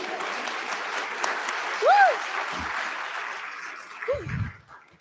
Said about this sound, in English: clap it up, we're graduating